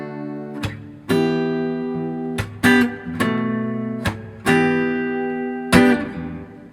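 Acoustic guitar playing chorus chords from a song in a live acoustic style, strummed chords ringing out with crisp percussive slap hits in between, close and clear with no talking.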